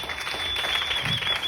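Steady, dense applause from an audience at a French-language business presentation, an even wash of clapping throughout with a thin high whine running beneath it.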